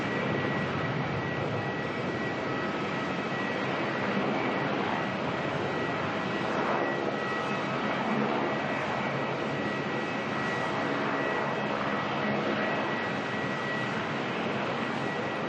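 Aircraft in Velocity Toy Story livery at Melbourne Airport, a steady broad engine roar holding level throughout without a break.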